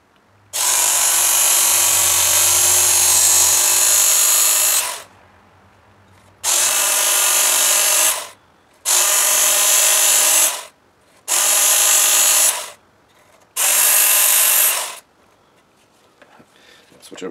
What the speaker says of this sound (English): I've got my work sharp here. I'm going to sharpen as much as I can.